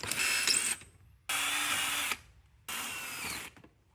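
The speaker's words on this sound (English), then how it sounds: "I'm going to be drilling some of these rivets out to expose some of the aluminum" A power drill whines in three separate bursts of about a second each, with short pauses between, close and fairly loud as it drills out steel rivets from an old aluminum beach chair.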